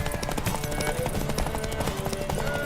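Rapid horse hoofbeats pound continuously in The Witcher 3: Wild Hunt, with loud, busy noise, voices and clatter mixed in throughout a short burst.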